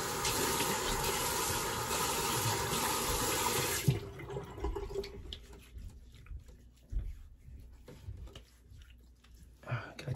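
Tap water runs loudly with a steady splashing hiss while a safety razor is rinsed, then cuts off, leaving faint clinks and handling noises.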